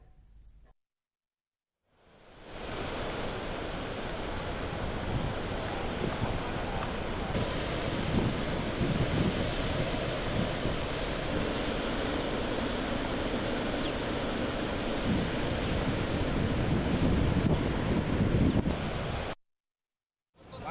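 Water rushing out through the opened gates of the Pulichintala dam, a loud, continuous broadband roar with wind buffeting the microphone, running steadily for most of the clip between short silent gaps at the start and end.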